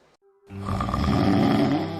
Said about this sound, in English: Snoring and sleep apnea wreak havoc on everyone's sleep